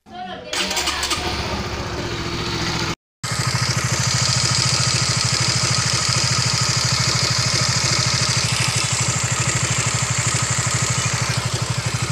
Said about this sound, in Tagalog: Ito ay dahil sa tensioner issue o kalampag sa makina nito.